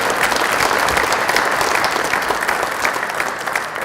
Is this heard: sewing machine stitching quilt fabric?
no